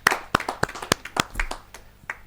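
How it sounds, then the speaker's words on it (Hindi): Scattered hand claps from a small audience at a kavi sammelan poetry gathering, a handful of sharp separate claps spaced irregularly, fairly close and moderately loud, thinning out toward the end. "जोरदार तालियों के साथ हम स्वागत।"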